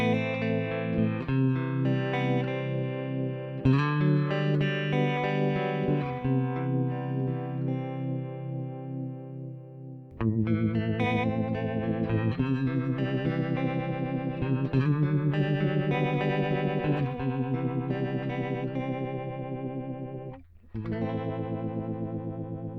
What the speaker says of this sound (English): that gives the whole phaser kind of sound